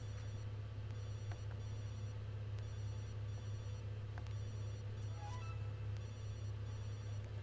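A telephone in The Sims 2 rings in a repeating electronic trill, faint and steady with regular pulses over a low constant hum.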